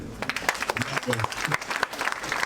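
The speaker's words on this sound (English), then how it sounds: "Now is when I will ask for another round of applause for Chief Olusegun Obasanjo." An audience at a birthday lecture event bursts into applause, a dense, steady patter of many hands clapping, with voices audible beneath the clapping.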